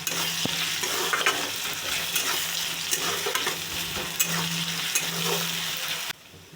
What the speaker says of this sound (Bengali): পেঁয়াজ লাল হয়ে গেছে, এবারে দিচ্ছি রসুন দিয়ে ভালো করে ভেজে নেব।